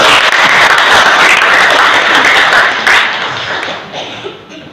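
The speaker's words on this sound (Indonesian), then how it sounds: "Boleh tepuk." An audience applauds at a Bogor city government event, a dense wash of clapping that holds strongly for about three seconds and then thins and fades away.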